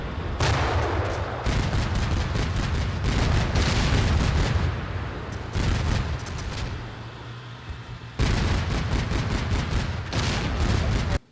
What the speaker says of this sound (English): Aerial fire is extensively used against potential enemy firing positions.